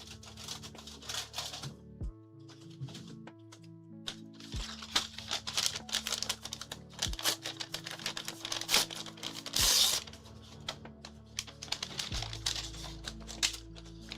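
A paper LEGO parts bag from the Darth Vader 75461 set crinkles and rustles for about fourteen seconds. Loose pieces shift inside it as it is opened, and a steady run of tonal music plays underneath.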